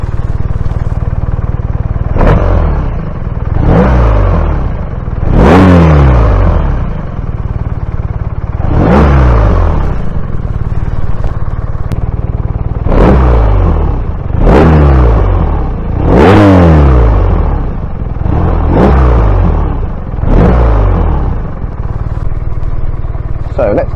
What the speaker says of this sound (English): We're going to have a little listen to the exhaust note.